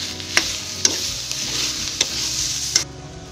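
Tomato-based masala fries in a pan, a soft steady sizzle broken by a few sharp scrapes and taps as it is stirred, close and fairly quiet, with no talking.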